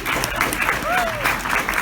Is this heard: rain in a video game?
no